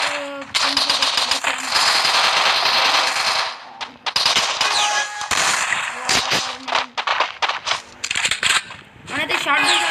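Rapid bursts of shotgun fire in a Free Fire video game, loud and dense with sharp repeated blasts and brief gaps, while a voice talks over parts of it.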